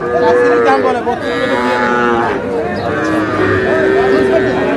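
Young bull calves and heifer calves mooing at a cattle market, several drawn-out bellowing calls overlapping closely and loudly, with people talking in the background.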